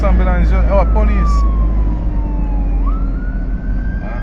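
Emergency sirens from an ambulance and police vehicles wail loudly and close, pitches sweeping and overlapping above a heavy low rumble of traffic.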